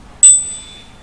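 A single bright strike of a small bell during a Thai astrology broadcast, ringing out clearly and fading over about half a second with no talk.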